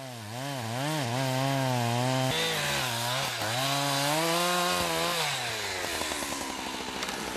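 A chainsaw fells large trees in a Russian winter forest, its engine loud and close as it revs and bogs in long rising and falling sweeps before settling into a rougher cutting note near the end.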